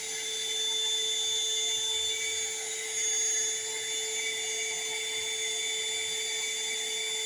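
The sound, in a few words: heat gun shrinking solder sleeves on wiring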